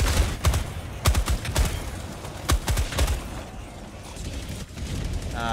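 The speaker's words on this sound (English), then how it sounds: "Gatling gun." A Gatling gun in the video game Helldivers 2 rattles off in dense bursts of rapid fire amid loud battle noise, with repeated sharp cracks across the scene.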